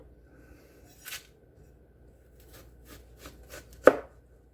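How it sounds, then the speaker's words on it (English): Knife chopping through an onion on a cutting board while cooking: a few separate sharp cuts, one near 1 second, several lighter taps around 2.5–3.5 seconds and a louder chop near the end, close and fairly quiet, with no talking. "And if the knife will quit sliding off the onion,"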